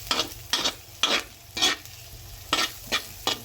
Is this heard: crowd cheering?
no